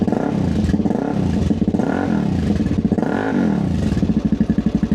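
A 2007 Suzuki DR-Z motorcycle engine idles and revs up and down in repeated swells, loud and close, its throaty note pulsing steadily between revs.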